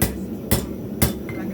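Three sharp hammer blows on a hot steel skinning knife blade being forged flat, spaced about half a second apart, ringing briefly over a low background hum.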